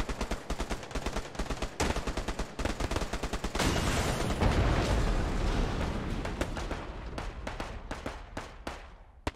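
Rapid gunfire from the World War II shooter game Hell Let Loose cracks out loud and close, with bursts of single shots, a sustained heavy roar of automatic fire in the middle, and more spaced shots toward the end.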